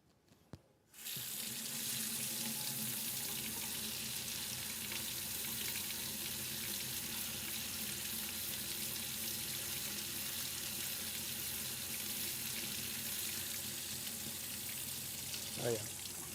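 Hot water gushes steadily from a tap into a sink inside a camper van, a continuous close splashing rush that begins after a second of near silence and runs on without a break.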